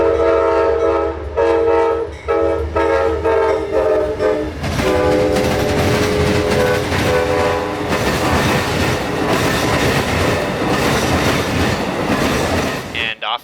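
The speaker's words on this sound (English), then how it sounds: "And our day of older power ends in Plant City with a nice Amtrak train." An Amtrak passenger train horn blares in long sustained blasts, then the train rumbles past up close in Plant City, Florida, with loud rolling clatter of wheels on rails.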